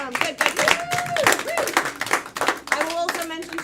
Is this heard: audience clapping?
yes